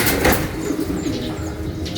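Pigeons coo amid outdoor ambience at a Filipino pigeon toss event in Umingan, soft low calls under steady background noise with some wing flapping.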